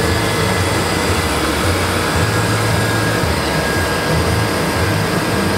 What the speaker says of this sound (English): I like to put a little heat on it every once in a while.